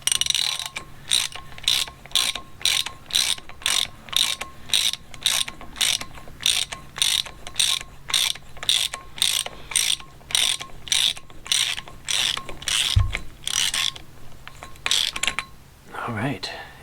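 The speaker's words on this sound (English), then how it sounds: "This darn Harbor Freight ratchet likes to change direction on you." A Harbor Freight ratchet turns a bolt while threads are being fixed, with loud, close, rhythmic clicking in steady bursts about twice a second, then a few knocks and metallic handling sounds near the end.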